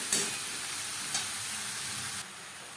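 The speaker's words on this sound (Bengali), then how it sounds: "মশলার সাথে ঝিঙে বেশ ভালো করে মিক্স করে দেবো।" Steady sizzle of ridge gourd frying with spices in a pan, close and moderately loud, with two brief sharp scrapes of stirring and no talk.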